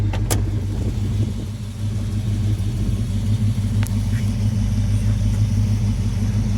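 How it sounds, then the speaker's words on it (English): A 1969 Dodge Charger R/T with its original 440 idles close by, its exhaust giving a deep, steady, throbbing rumble, with a couple of brief clicks over it. "Man, that exhaust sounds fantastic."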